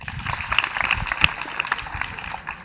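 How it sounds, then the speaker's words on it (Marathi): An audience, mostly schoolchildren and women at a school event on girls' education, claps for itself in a short burst of dense, steady applause at moderate distance. "स्वतःसाठीच एकदा टाळ्या वाजवा."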